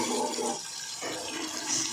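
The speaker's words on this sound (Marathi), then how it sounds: "आता याच्यामध्ये गरम पाणी घालून घेते" Hot water pours steadily into a pan of green pea dal (amti) simmering with sautéed peas, a continuous broadband splashing rush that runs close and fairly loud for about two seconds, with a brief dip midway.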